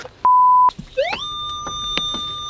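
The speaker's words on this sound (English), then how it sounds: "Oh, listen, Manish is getting beeps over there" A metal detector gives a short steady electronic beep, then a rising tone that settles into a sustained whine with small clicks.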